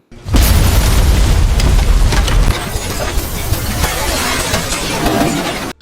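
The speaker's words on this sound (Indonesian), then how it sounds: "rumah yang menjadi target penyerbuan justru terlebih dahulu diledakkan oleh sebuah bom berkekuatan besar yang mematikan" A powerful bomb blast destroys a house as a movie-style effect: a sudden loud boom with deep rumbling low end, then sustained crackling debris and roaring aftermath that stays loud for several seconds before cutting off.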